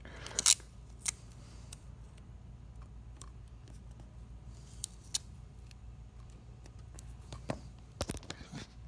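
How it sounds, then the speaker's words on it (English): Tape is pulled and pressed down over both ends of a thin spaghetti strand, producing quiet, scattered rips and crisp snaps spread across a hushed background. "Now I got to go ahead and tape down both sides of the spaghetti."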